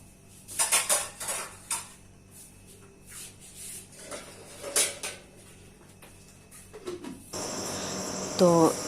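Dishes and steel utensils being washed in a home kitchen: repeated clinks and clattering of pots, plates and cutlery in irregular bursts, close to the microphone, followed by a steady rush of running water near the end.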